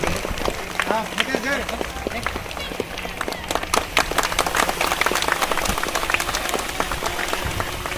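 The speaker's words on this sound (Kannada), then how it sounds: "ನಾವೆಲ್ಲರೂ ಜೋರಾದ ಚಪ್ಪಾಳೆ ಮೂಲಕ ಅಭಿನಂದಿಸೋಣ" Loud, dense clapping from a crowd at an Independence Day celebration, sustained throughout with voices mixed in.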